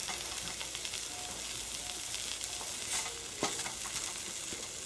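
Food simmering and sizzling in sauce in a pot gives a steady soft crackle, with a few utensil clinks and stirring scrapes near the end.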